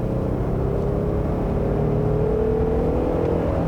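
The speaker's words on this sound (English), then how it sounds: "Again, it's a very satisfying engine note, so you guys are really going to be quite pleased." A 2018 Jeep Wrangler's 3.6-litre V6 pulls under acceleration, its engine note climbing gradually in a close, steady, throaty rumble with no talking over it.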